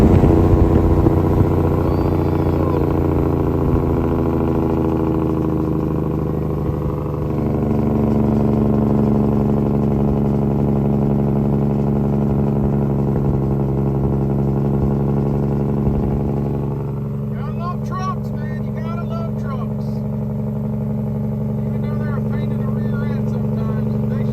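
An old Mack R-model logging truck engine revs loud and close with a deep, rough rumble that rises and settles, with clattering mechanical noise over it.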